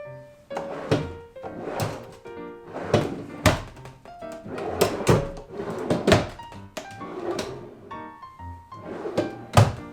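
Drawers on a handmade wooden tool cabinet slide open and shut again and again, giving loud, close wooden thunks and knocks in an uneven rhythm, each bump followed by a short scrape of wood.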